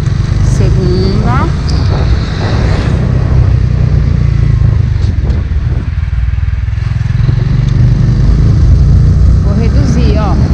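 A Honda Biz motorcycle engine running loud and close as the rider accelerates, steady engine drone with rising revs, heard under continuous talking from the rider.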